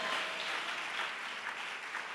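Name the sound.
church congregation clapping hands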